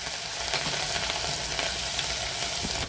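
Green chillies, curry leaves and sesame seeds sizzle steadily in hot oil for batata poha, a dense, continuous crackling hiss with no talk.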